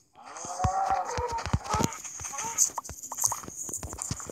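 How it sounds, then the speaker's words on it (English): A blocky Minecraft cow gives a drawn-out moo, followed by sharp clicks and hit sounds as it is attacked, while a voice talks over the game audio. "just gonna kill that cow"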